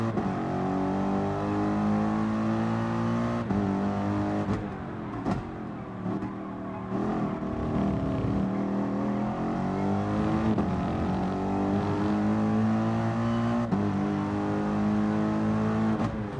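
Racing car engine in Gran Turismo Sport lapping Catalunya, a sustained close tonal drone whose pitch climbs and falls with brief dips at gear changes and braking, steady and uninterrupted throughout.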